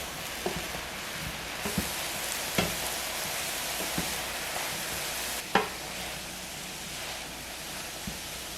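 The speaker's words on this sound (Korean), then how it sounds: "팬에 가지를 넣으시고요. 소금 2꼬집 넣고 가지의 수분을 먼저 날려줄게요." Salted eggplant pieces cook in a pan, releasing moisture with a broad, even hiss like rushing water, and a few scattered taps of a utensil against the pan.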